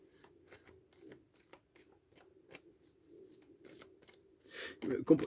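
Oracle cards shuffled by hand in a series of soft, quick riffles and taps close by, building to a louder burst of handling at the end, with light speech sounds underneath.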